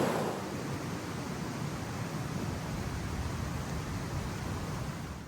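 A waterfall near a mountain hut in wet weather, heard as a dense, continuous roar of rushing water that stays steady and fairly loud from start to finish.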